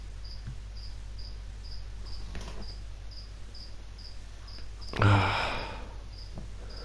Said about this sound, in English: these crickets are so loud